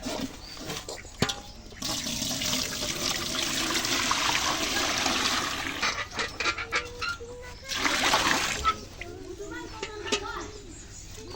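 Water gushes and splashes from a container into a trough for a cow to drink, with a long rushing pour, then intermittent splashes and gulping sounds; a person talks at times and children are heard in the background.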